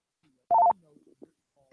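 A brief burst of telephone touch-tone dialing beeps signals an incoming caller to a live radio show, loud and clean, followed by faint, low background sounds.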